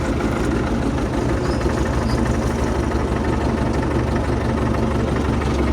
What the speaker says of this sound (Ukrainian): МТ-зончик працює, коротше